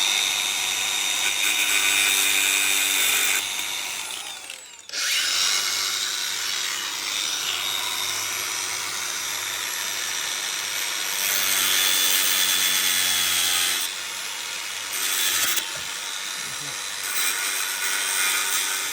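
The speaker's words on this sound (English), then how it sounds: "we got our little thin disc grinder, and we're gonna grind this little rivet off here" A thin-disc grinder cuts a rivet off a shifter cable stud on a Can-am BRP Defender Limited HD 10, a loud, continuous high whine that breaks off briefly twice and then resumes, close by and without speech.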